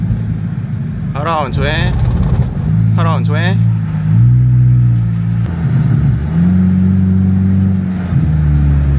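A Honda Civic FD with a burble exhaust tune revs in repeated bursts, the engine climbing and dropping with popping burble between pulls, loud and close, with a voice speaking briefly over it.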